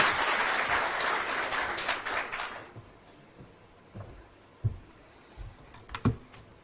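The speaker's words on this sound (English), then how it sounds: "We can welcome her with a clap." Audience clapping in welcome at a World MSME Day event in a Nairobi conference hall, a burst of applause for the first few seconds that stops abruptly, leaving faint scattered knocks and taps in a quiet room.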